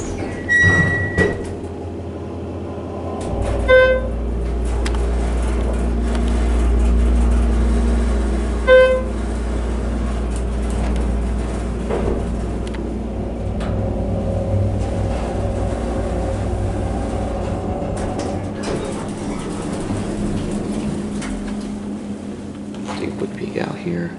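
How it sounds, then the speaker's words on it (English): A Schindler 330A hydraulic elevator from 2006 in a corporate office building in Lancaster, Pennsylvania, its motor giving a steady low hum for several seconds while riding up to the third floor, with short electronic chime tones and cab noises around it. "Take it right up to 3. And listen to the motor again."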